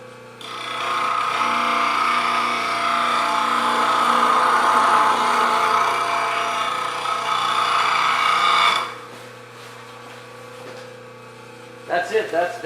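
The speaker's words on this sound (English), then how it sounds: "So, we just bring up your grinder" A bench grinder sharpens a wood turning scraper held on a sharpening jig, giving a loud, steady whine for about nine seconds before it cuts off and winds down, followed by a few brief knocks.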